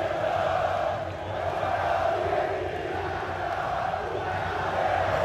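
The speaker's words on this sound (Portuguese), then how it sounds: "A torcida do Grêmio em São Januário!" Grêmio supporters roar in São Januário stadium during a football match, a dense, continuous crowd din of cheering and chanting that holds steady throughout.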